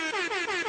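An air horn sound effect set off as a 'butter alarm' during a live show, three or four loud blaring blasts in quick succession with short dips between them.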